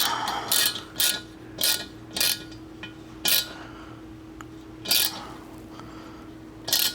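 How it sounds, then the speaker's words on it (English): A short hand ratchet turns a tap into a valve fitting, giving bursts of quick metallic clicking pawl sounds, about eight short clusters spaced irregularly, close and clear over a faint steady hum. "you'll notice I'm like using one finger pressure to turn this ratchet, and it's a short ratchet"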